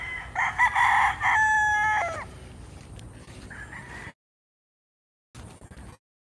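Stag roosters on a farm crow loudly and close in a long, strained cock-a-doodle-doo, followed by softer clucking and rustling before a brief silence and a short burst of further clucks.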